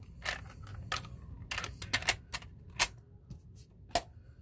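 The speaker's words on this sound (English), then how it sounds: "You press the eject." A Sharp JC-128 cassette player gives a series of sharp plastic clicks and clacks as the eject button is pressed and the tape door pops open, close and alone in a quiet room.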